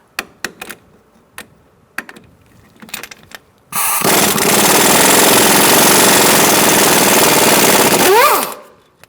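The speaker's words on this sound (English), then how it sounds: "I'm going to use a 17mm socket and take out this pinch bolt." A 17mm socket removes a strut pinch bolt on a 2004-2009 Mazda 3, with a few sharp clicks and taps, then a loud, close, continuous hammering rattle like an impact wrench that runs about five seconds before winding down.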